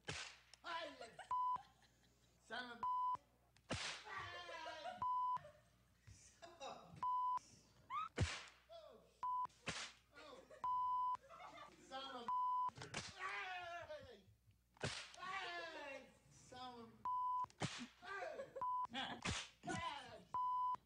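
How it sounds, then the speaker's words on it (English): Repeated censor bleeps cut through excited speech after a confetti cannon goes off, a steady tone popping in again and again over several voices. "they're going to hear a lot of bleeps in this version of his reaction"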